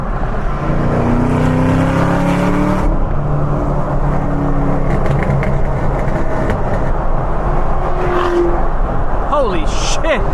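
Supercharged Chevrolet Camaro ZL1 at a Miami street car meet, engine roaring loud and close with rising supercharger whine over crowd noise and excited shouting voices.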